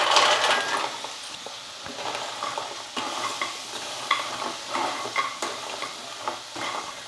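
A spoon scrapes and stirs masala, sauce and chilli powder through leftover idli pieces in a sizzling pan, with repeated close scraping strokes and light clinks over a steady frying hiss.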